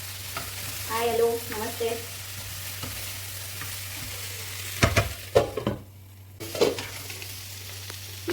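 Potatoes, cauliflower and peas are stirred in a pan for aloo gobi mattar, giving a soft sizzle with scraping spoon strokes and a few louder knocks; a brief greeting is spoken early on.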